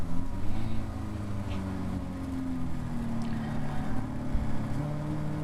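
Caterham Academy race car engine droning steadily at Donington Park during a safety car restart, a loud in-car engine tone with gradual pitch rises and no talk.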